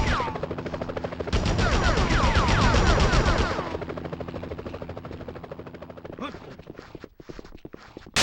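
Rapid gunfire bursts in the Spider-Man video game, a dense loud rattle for a couple of seconds that fades under ongoing game voices, music and effects.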